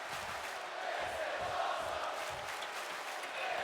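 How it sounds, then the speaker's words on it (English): Wrestling crowd roaring and cheering during a ladder match, a steady dense wall of arena noise throughout with faint chanting swells. "The crowd thoroughly enjoying this match."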